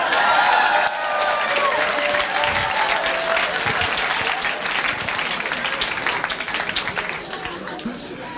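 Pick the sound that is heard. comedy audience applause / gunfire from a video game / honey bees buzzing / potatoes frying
comedy audience applause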